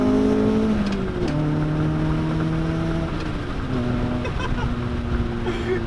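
A 1989 Honda Civic EF hatchback accelerating at full throttle, its engine note climbing steadily through each gear, with brief drops at the shifts, loud and close from inside the car.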